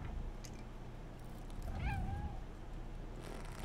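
A cat meows once in the video game Stray, a short rising-then-falling call heard clearly over a steady low background hum with no talking.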